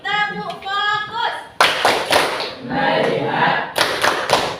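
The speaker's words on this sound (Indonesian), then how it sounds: "Sekali lagi, tepuk fokus." Students in a classroom repeat the rhythmic 'tepuk fokus' clapping game, with a voice speaking first and then bursts of group claps in a patterned sequence, loud and close.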